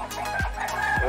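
Chicken clucking on a wild boar farm in Kalimantan, a few short close clucks over a steady background hum, with no talk.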